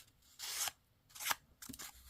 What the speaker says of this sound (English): I just cut one of my sanding discs to fit it.